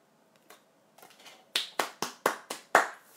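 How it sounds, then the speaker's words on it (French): Claps during a children's magic show, first a few soft scattered hits, then six sharp, evenly spaced loud claps in a quick rhythm, close and alone with no talk. "Je vous applaudis."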